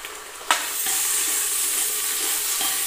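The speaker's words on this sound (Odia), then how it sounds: "ଯେହେତୁ ପିଆଜ ଲାଲ ହେଇଯାଇଥିଲା ତ ଅଦା ରସୁଣ ପେଷ୍ଟ ଦିଆଗଲା" Onions frying in a pan with ginger garlic paste dropped in: a sharp burst of sizzle at the addition, then a loud, steady, hissing fry continuing without speech.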